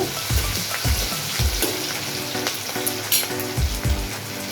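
Idli pieces fry in a pan with a bright, steady sizzle, broken by soft rhythmic stirring thumps, close and without voices.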